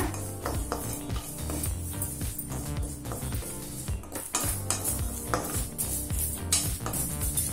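Curry leaves fry crisply in a pan, with constant crackling and sizzling mixed with metallic scraping and stirring.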